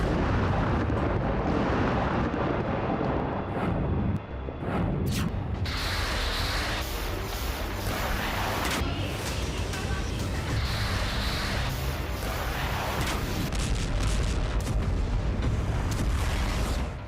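Missiles fired from a US Navy destroyer in the Red Sea strike with a sustained, loud, roaring rumble and heavy explosive blasts that fill the whole stretch, along with hissing, spray-like noise.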